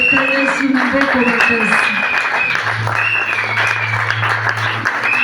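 A church congregation applauding and cheering during a French-language service, steady clapping with crowd voices and music tones running underneath, fairly loud and close.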